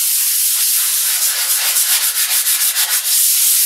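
A sander works over a Formica countertop in circular strokes, giving a loud, continuous abrasive hiss that pulses in regular sweeps toward the end.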